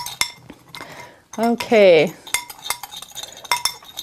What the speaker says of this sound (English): now we are stirring them with a spoon, stirring them together